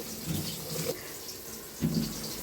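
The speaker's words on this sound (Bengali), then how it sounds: "এই যে চালটা ধুয়ে নিচ্ছি" Tap water runs steadily as rice is rinsed for biryani in a home kitchen late at night, with splashing swells and a couple of louder sloshes as the grains are stirred.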